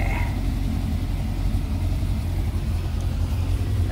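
The engine of a 1966 Riley Elf running with choke applied, a steady low rumbling idle heard close, constant and even for about four seconds.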